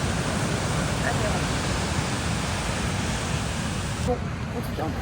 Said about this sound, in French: Pas se baigner dans la mer, il y a beaucoup trop de vagues.